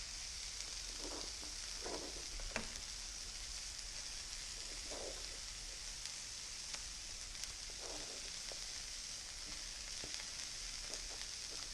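Onions and peppers stir-frying for shrimp fried rice give off a steady hissing sizzle, with a few soft stirring scrapes scattered through it, fairly faint and continuous.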